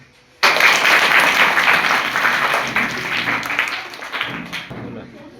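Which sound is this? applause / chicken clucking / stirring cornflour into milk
applause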